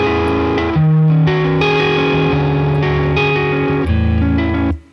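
Electric guitar chords played through a heavily distorted low-watt vintage Tone King amp, loud and sustained with changing chords, ending in a quick fade.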